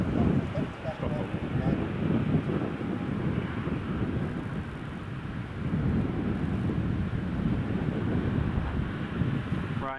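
A Norwegian airliner taxis at Edinburgh Airport, giving a steady, broad engine rumble mixed with heavy wind buffeting on the microphone. The sound holds fairly constant across the whole stretch.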